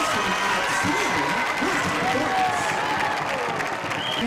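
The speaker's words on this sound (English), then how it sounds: "let's give a Skyline pop-up team a round of applause" Big crowd at a high school football game halftime show applauding and cheering for the Skyline pop-up team, a dense steady roar of clapping with scattered shouts and voices mixed in throughout.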